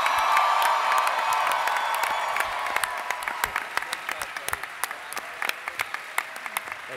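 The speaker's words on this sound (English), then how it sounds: "big round of applause for Sean Astin." Cheering and clapping from a comic convention crowd, loud at first and then thinning into scattered individual claps as the noise dies down.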